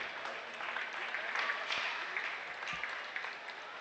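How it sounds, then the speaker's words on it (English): Applause from the crowd at a Kentucky open market hog show honours the crossbred gilt exhibitors, a steady patter of many hands that holds at an even level for the whole stretch. "Let's give her a big round of applause for all of our crossbred gilt exhibitors."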